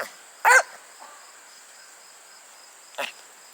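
Two sharp dog barks, a few seconds apart, over a quiet background with a faint insect-like hum.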